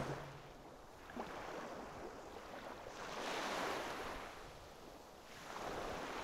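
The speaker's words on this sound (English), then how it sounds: "Listen to the sea." Sea waves surge and recede in slow, rolling swells, a broad, hissing wash that rises and falls about three times with no voices.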